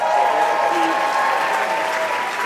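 Convention audience in a breakout room applauding, dense sustained clapping from a crowd that stays loud and even throughout.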